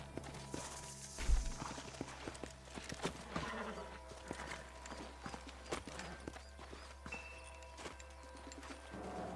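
Horse hooves clop steadily at a walking pace in the video game Red Dead Redemption, fairly quiet, with birds chirping in the background.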